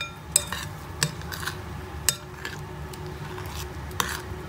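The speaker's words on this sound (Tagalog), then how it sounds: "Mix nyo lang hanggang ma-absorb na nung dry food yung water." Spoon stirring dry cat food softened with hot water in a bowl, giving a few soft scraping clinks against the dish over a low background hiss.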